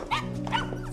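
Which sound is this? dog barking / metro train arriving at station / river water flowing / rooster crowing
dog barking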